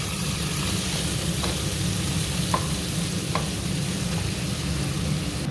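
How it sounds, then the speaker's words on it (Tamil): Brinjal and shallots sauté in oil in a pan for Chettinad-style ennai kathirikkai kulambu, giving a steady, close sizzle with a few faint stirring clicks throughout and no talking. "அதனால நம்ம இப்போ கத்திரிக்காயை போட்டு வதக்கலாம்."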